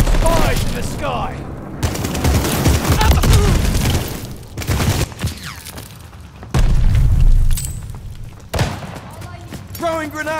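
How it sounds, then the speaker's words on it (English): Booming explosions and bursts of gunfire in a Call of Duty: Vanguard match as enemy glide bombs come in, with heavy low-end thuds rolling through the scene and a voice speaking in between. "Enemy glide bombing coming."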